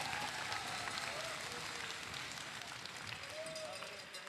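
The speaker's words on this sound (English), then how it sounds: "Let's give another round of applause for all the volunteers who have given their time, effort, dedication, and so much more to this program." Applause from a crowd at a FIRST Tech Challenge robotics qualifier, a steady wash of clapping in a large hall with faint background tones and some indistinct voices mixed in.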